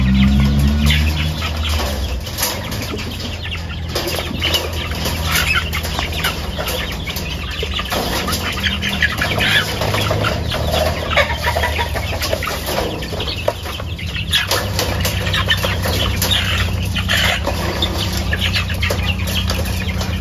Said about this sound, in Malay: Ayam BPR, ayam Barrett Plymouth Rock. Ni ayam sejenis ayam penelur.